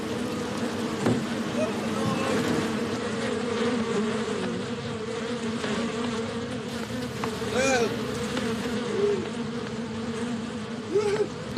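A swarm of bees buzzes dense and close around a man on an embankment, a steady droning hum with individual insects whining past. Faint voices sit underneath.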